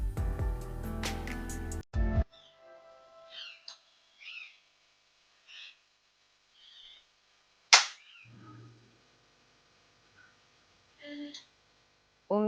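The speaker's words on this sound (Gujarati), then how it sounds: "ગયા વર્ષના ફટાકડા પડ્યા હતા, તો અત્યારે એને મળ્યા છે તો લઈને બેસી ગયું છે ફોડવા માટે" A child setting off leftover firecrackers outdoors on a rainy day: a loud burst of sharp cracks opens, then scattered small pops and snaps at intervals, with one sharp bang midway and faint background sounds between.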